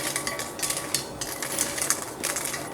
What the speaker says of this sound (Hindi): मिर्चों को भूनते हुए,